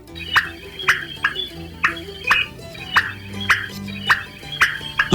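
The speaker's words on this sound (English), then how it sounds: "And the whip call of a female." A female common pauraque, a nightjar, gives its whip call: a series of about ten sharp, rising whistled notes, roughly two per second, heard clearly and fairly close with a low hum underneath.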